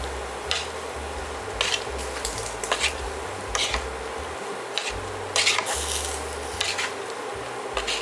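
A spoon scrapes and squishes through homemade tomato sauce seasoned with basil, paprika, oregano and black pepper in a pot, producing soft, irregular stirring strokes and occasional louder clinks over a steady low hum.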